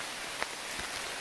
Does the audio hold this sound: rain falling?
yes